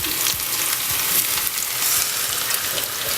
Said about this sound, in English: Now we just let them fry